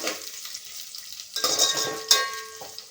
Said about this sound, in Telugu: ఇప్పుడు దాంట్లోకి ఉల్లిపాయ ముక్కలను, బఠానీ, క్యారెట్ వేసుకొని 1 నిమిషం పాటు అయితే వేయించుకుందాము.